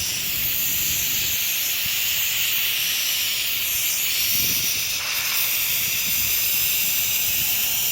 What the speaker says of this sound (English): getting ready to let the steam off the Instapot